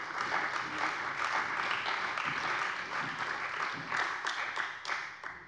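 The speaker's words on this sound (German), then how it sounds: "Applaus" Sustained applause fills a German state parliament plenary session in Hessen, a dense, steady wash of many hands clapping that holds at an even level throughout.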